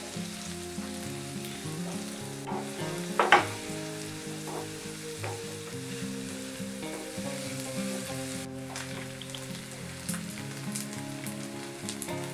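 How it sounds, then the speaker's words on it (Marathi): Onion frying in a pan for mushroom soup produces a steady, soft sizzle throughout, with a brief clatter of stirring near the start and occasional small pops; quiet and close, with no voices. "आता मी यामध्ये कांदा घालत आहे आता कांदा पण आपल्याला व्यवस्थित शिजवून घ्यायचा आहे"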